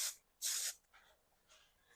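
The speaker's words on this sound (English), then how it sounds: "It's a dry finishing spray, and it gives it a more tousled look" Dry finishing hair spray hisses out in a short burst, then a longer steady spray, followed by a few fainter, brief puffs, all close and with no talking.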